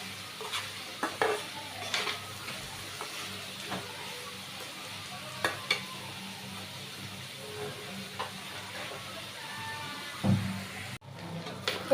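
Turmeric, chilli and coriander powders with garlic and bay leaf frying in a pot for dried-fish curry, a low steady sizzle broken by scattered spoon scrapes and light clinks at a moderate distance.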